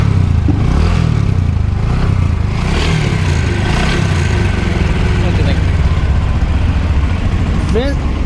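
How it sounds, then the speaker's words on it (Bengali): A motorcycle engine idles nearby with a low, steady rumble and a few throttle blips, a voice talking over it at times. "তার জন্য বাইকের সাউন্ডটা শোনাই"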